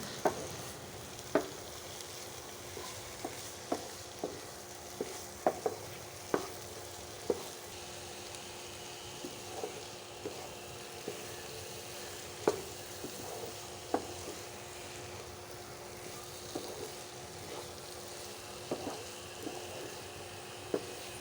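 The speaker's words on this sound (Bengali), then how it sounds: "দিয়ে একটু নেড়ে চেড়ে সুন্দর করে মিশিয়ে নিলাম" Vegetables frying with garam masala for kochu saag shukto make a steady low sizzle in a pan, broken by light scrapes and taps of a spoon as they are stirred and mixed, with no one talking.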